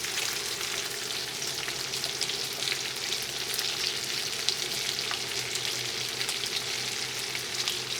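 Onions, green peppers and red pepper frying in a pan, an even close sizzle with soft crackles, steady throughout without talk.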